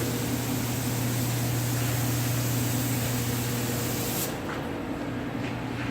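A spray gun lays a second coat of paint on a square body truck, giving a steady, loud, close hiss that runs without pause and eases slightly near the end, with no voices.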